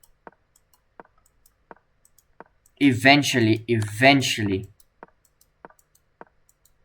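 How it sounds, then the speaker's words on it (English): A mouse clicks sharply at a steady, unhurried pace, about one click every second, with a brief spoken phrase in the middle. "Ladies and gentlemen, you're just going to keep hearing my mouse click"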